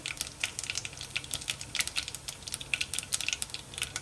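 Cumin seeds crackle in hot oil for tempering while bataka vada is prepared, giving dense, irregular, close-up sizzling and popping that runs steadily with no talk.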